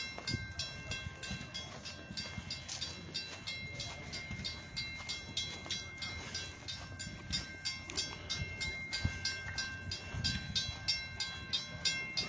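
Edaville Railroad train running by, a steady rumble with rhythmic clicking of wheels over rail joints, moderately distant and fairly faint.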